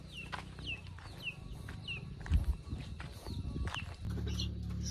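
Native chickens around a coop in a mountain village, repeated short clucks and squawks at moderate distance over a low rumbling background with some knocking.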